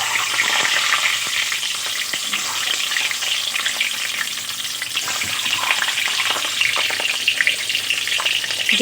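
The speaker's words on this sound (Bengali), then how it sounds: "প্রথমেই আমি ডিমগুলো ভেজে নেব।" Eggs fry in well-heated oil in a pan, giving a steady, close hiss and crackle with light stirring and no talking.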